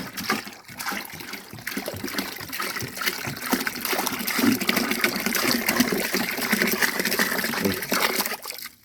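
Cow urine poured in a steady, loud gushing stream into a tank on a farm, continuous splashing liquid throughout with no talk.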